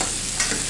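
Artichokes sizzle and fry in a pan, a dense close hiss with a faint stir partway through, brief and steady.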